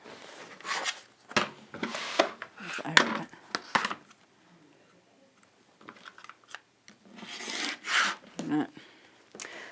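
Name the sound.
cutter trimming fabric along ruler on cutting mat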